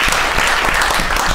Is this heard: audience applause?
yes